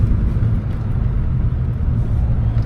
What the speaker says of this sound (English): There's something that took some getting used to is popping it into second, because the RPMs don't pop down very quickly